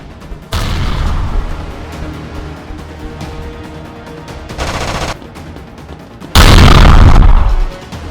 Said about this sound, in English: Run! Grenade!